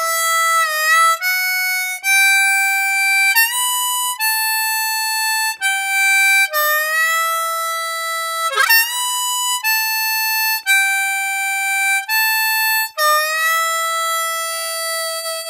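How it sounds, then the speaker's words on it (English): A crying, wailing harmonica melody from a song played in third position, with long sustained bending notes in a slow phrase and no other sound. "It features a crying-like harmonica melody played in third position in the original recording"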